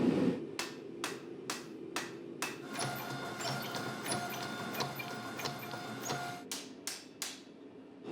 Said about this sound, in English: I'm just gonna do some light bevel forging, finalize the Tang, and I'm gonna be ready to normalize it